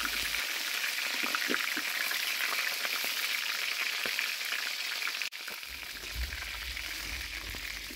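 Spiced country chicken fries in a pan over a clay stove, giving a dense continuous sizzle with occasional stirring clicks. Near and steady, with a brief dip partway through.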